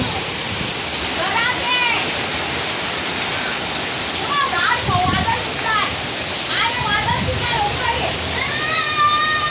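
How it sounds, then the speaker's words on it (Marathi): Heavy monsoon rain pours down in Vasai, a steady dense roar of water that fills the whole clip, with faint voice-like tones rising over it now and then. "किती जोराने पाऊस पडतो आहे बापरे."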